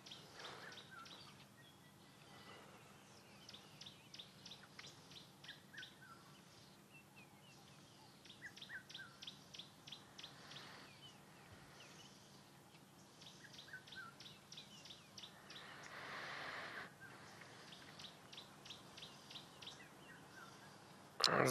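An orange-breasted bushshrike calls outdoors at sunrise on safari, with repeated chirping phrases over a steady hum of insects and a red-chested cuckoo calling faintly in the distance.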